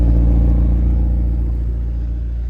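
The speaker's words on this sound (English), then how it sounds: "Twin exhaust tips in the back, super loud, sounds so good." McLaren 720S Spider exhaust with twin tips, rumbling loud and close in a deep, steady drone that fades very slightly over a few seconds, with no voices.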